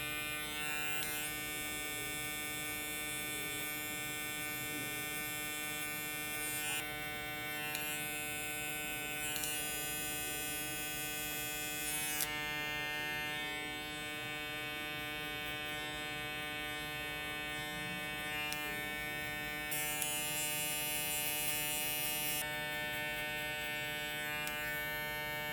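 An electric hair clipper runs steadily throughout a barbershop haircut on difficult hair, a constant buzzing hum with brief shifts in tone as the blade moves through the hair.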